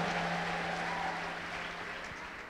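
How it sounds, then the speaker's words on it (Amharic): A church congregation claps together, a dense continuous wash of applause that fades slightly toward the end. "እልልታ ያለው ሰው ከዚህ በላይ እልልታ ያምጣ፣ ጭብጨባ ያምጣ።"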